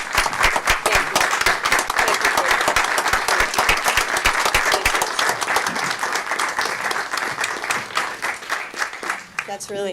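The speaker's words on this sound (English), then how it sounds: "a round of applause is in order" Sustained applause from a city council meeting audience, dense clapping that fills the room for several seconds before thinning out near the end, with some talk mixed in beneath it.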